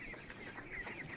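A small chicken in a backyard pen clucks softly, a few faint, close, throaty notes over a quiet outdoor background without talk.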